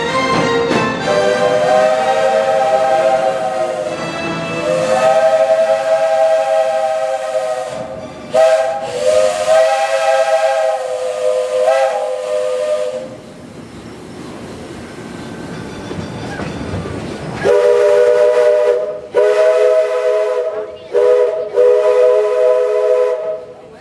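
A loud steam train whistle blows in long, sustained blasts over a hissing, chugging engine at the Walt Disney World Railroad, pausing briefly before sounding again.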